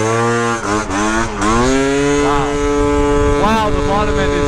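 Gilera Runner 172cc scooter engine revving hard on a full-throttle pull, a loud, steady rising drone with a brief dip early on, then surging again near the end.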